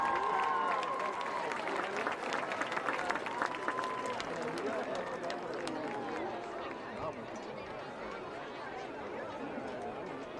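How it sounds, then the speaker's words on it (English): Crowd applause and cheering in the stands at a Friday night high school football game, given for the Princeton Senior High School Tiger Marching Band: a steady, dense wash of clapping and chatter that holds throughout and fades slightly toward the end. "Another round of applause for the Princeton Senior High School Tiger Marching Band."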